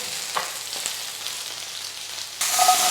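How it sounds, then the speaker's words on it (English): Potatoes frying in fat in a pan, a steady close sizzle with crackles that suddenly grows louder and brighter toward the end. "You fry a bit, put in a tray, fry second part, put in a tray, and you finish in oven."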